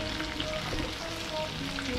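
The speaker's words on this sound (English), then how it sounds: "every time I'm frying fish" Jamaican escovitch fish fries in hot oil, a dense, continuous sizzle and crackle close up, with no talk over it.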